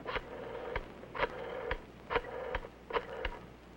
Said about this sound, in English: Flip the switch button, then dial a code number and the number you want